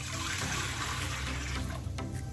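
Broth is poured into a dish of home-cooked stew, giving a steady, close liquid pour and splashing that runs continuously for about two seconds with no talking.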